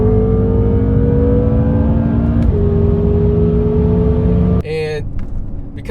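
A BMW F10 M5 twin-turbo engine pulling hard, heard as a loud, steady droning engine tone that climbs slowly, shifts pitch briefly partway through, then drops abruptly near the end as the note changes.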